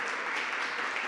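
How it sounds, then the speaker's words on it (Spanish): A church congregation claps in a steady, dense burst of applause that fills the room for about a second, with no voices standing out. "Un aplauso."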